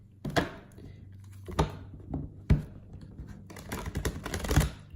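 A deck of cards is shuffled by hand, giving sharp riffling bursts and slaps at irregular intervals, several distinct flurries close up with quiet gaps between them.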